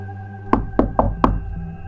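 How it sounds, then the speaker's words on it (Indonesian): Quick knocking on a house door: four sharp, close raps in fast succession, with no other sound around them. "Hendy mengetuk pintunya dengan cepat"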